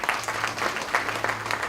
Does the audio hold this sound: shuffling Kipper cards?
no